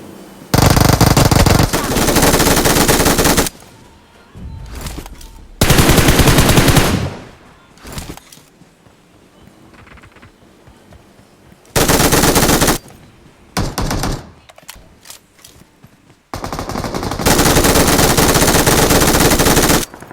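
Automatic gunfire in the battle royale game PUBG comes in several loud sustained bursts, each a few seconds long, with quieter gaps of game ambience and movement between them.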